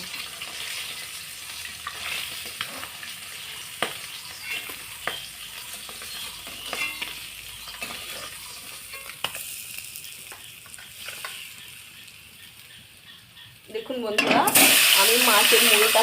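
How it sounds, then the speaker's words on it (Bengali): A silver carp fish head frying in oil, with a steady crackling sizzle and scattered pops, and scraping and stirring taps along the way. Near the end the frying suddenly flares much louder and harsher. "মুড়োটাকে ভালোভাবে একটু সময় নিয়ে ভেজে নেব কেননা মুড়োটাকে সময় নিয়েই ভাজতে হয়"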